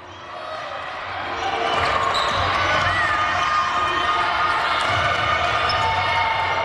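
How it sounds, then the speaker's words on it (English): A basketball arena at the Emerson Performance Center fills with students before a college game, a steady loud crowd murmur swelling in the first two seconds and holding with scattered voices and echoing bounces. "The crowd is building here at the Emerson Performance Center as students are coming in and walking over from the dorms."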